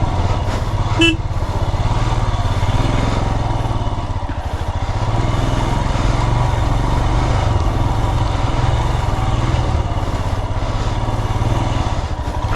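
A motorcycle engine drones loud and close throughout on a ride near the tea estates of Coonoor, Ooty, with a brief horn-like toot early on and no talk over it.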